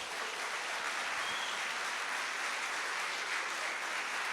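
A congregation claps together during a lively evangelical church worship service, dense and continuous applause at moderate distance with no speech on top.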